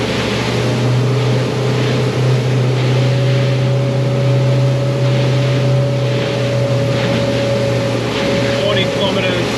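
A motorboat engine fitted with a Solas four-blade propeller runs at about 4,800 RPM near 40 km/h. It makes a steady, loud drone with wind and water rush over it, and voices talk throughout.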